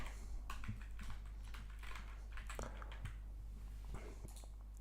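Rapid typing on a computer keyboard, steady clusters of light clicking keystrokes close by over a low constant hum, with no talking.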